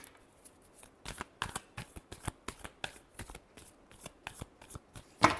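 Tarot cards being shuffled by hand in a quick run of crisp, papery riffles and slaps, about a dozen close, loud bursts in an uneven rhythm with brief pauses between, ending on a sharper final riffle.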